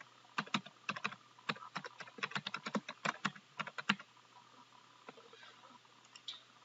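Someone types steadily on a computer keyboard, producing quick, close, crisp key taps in uneven bursts, followed by a few scattered keystrokes.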